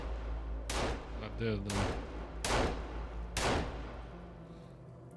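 Gunshots in the survival game Sons of the Forest: four separate sharp, loud blasts about a second apart, with a voice speaking briefly between them.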